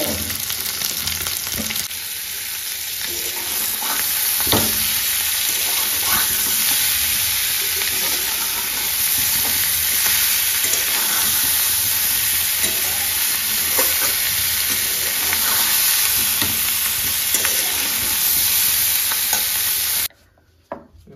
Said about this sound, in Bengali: কড়া করে ভেজে নেব নুন হলুদ আর মিষ্টি দিয়ে